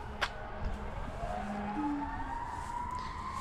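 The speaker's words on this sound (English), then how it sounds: "there goes the fire truck" A fire truck siren sweeping upward as the vehicle passes at a distance, faint and drawn out over low traffic rumble, with a short sharp click near the start.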